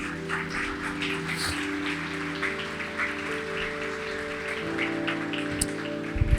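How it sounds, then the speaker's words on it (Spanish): A church congregation at Vida Church Maturín gives a soft, scattered round of applause, a faint patter of many hands set against a steady sustained musical tone, ending in a few louder knocks. "Dale un aplauso ahí al Señor."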